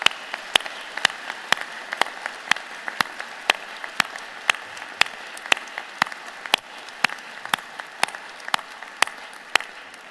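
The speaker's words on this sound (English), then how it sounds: "join me and the platform party in thanking them with a vigorous round of applause" The audience at the Trinity College spring convocation applauds, producing sharp, evenly spaced claps that repeat steadily and sound somewhat distant in a large hall.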